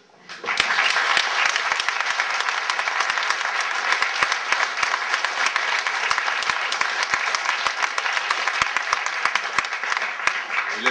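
Sustained applause from a gathered audience in tribute to a departed woman, a steady wash of many hands clapping at moderate distance with a few sharper individual claps standing out, rising in at the start and continuing throughout.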